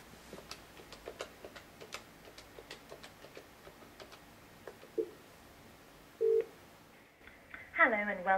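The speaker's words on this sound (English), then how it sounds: "To make an outbound call, simply dial another user's extension number or an external number" Short beeps from a telephone keypad on a hosted business phone system, a few spaced tones over a steady ticking, then a voice starts speaking at the end.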